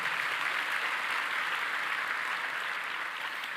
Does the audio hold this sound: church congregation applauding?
yes